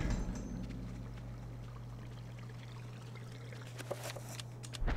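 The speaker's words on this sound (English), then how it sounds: "Dunking there into the foul-smelling fountain, it becomes filled to the brim with rank fluid" An urn being filled with foul water at a fountain in the video game Eternal Darkness: a steady, soft pouring and gurgling stream over a low constant hum, with no talking.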